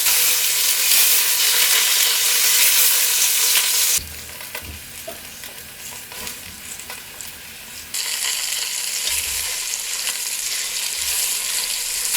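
Pork pieces sauté in a hot pan, a loud continuous sizzle that drops quieter for a few seconds as pieces are removed and then rises again when the next batch goes in, with no talking.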